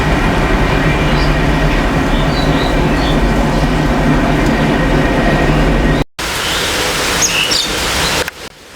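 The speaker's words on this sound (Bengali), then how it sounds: "বাড়ির সামনে দিয়ে যখন ট্রেন যাচ্ছিল" A train passes in front of a village house during rain, with a loud, steady rumble and wheel clatter close by. A sudden break near the end is followed by the continuing roar and faint rattles.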